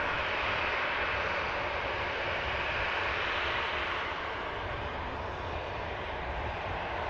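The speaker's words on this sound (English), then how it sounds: "Ryanair MX-8200 from Almeria next in, Kilo Alpha. Brand new in July last year, this MAX aircraft, MAX 8200 that's about to touch down." A brand-new Ryanair Boeing 737 MAX 8200 arriving from Almeria, about to touch down at Manchester Airport, gives a steady broadband engine rush that holds loud and even, easing slightly toward the end.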